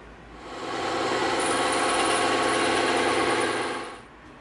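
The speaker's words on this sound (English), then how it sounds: "Now we're going to begin cutting all these on the bandsaw." A bandsaw cuts through EVA foam, a steady buzzing mechanical drone that swells in, holds for a few seconds close by, then fades out.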